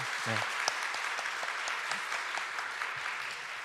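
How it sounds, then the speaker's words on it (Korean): Sustained applause from a church congregation at a members' presentation event, steady and fairly even, with scattered individual claps standing out. "큰 박수 한번 더 보내주겠습니다"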